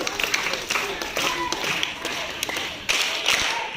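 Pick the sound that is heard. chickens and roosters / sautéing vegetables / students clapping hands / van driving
students clapping hands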